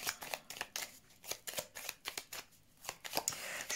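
A deck of cards is shuffled for a card-reading draw, a quick series of crisp riffling bursts and soft slaps in an uneven rhythm, close and fairly quiet.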